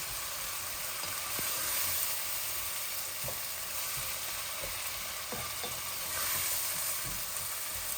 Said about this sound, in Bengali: আমার পেঁয়াজগুলো আর একটু ভাজা ভাজা হয়ে যাক